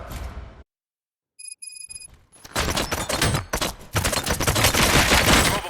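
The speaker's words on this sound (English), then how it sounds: "Gunshots? What's going on?" Gunfire erupts in the RoboCop: Rogue City video game after a short silence and a ringing alert tone, breaking into dense, loud bursts of rapid shots that continue to the end.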